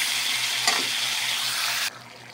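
Beef is stirred into a sizzling sauce in a pan for beef caldereta, a dense close frying hiss with a brief stirring scrape, cutting out abruptly near the end, with no talking.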